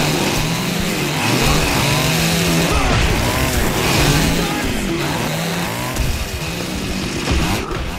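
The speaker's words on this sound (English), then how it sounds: "you can barely hear it over all the chainsaws" Chainsaws revving in the 2010 video game Splatterhouse, a dense, loud, continuous snarl with wavering pitch throughout, heavy metal music driving underneath.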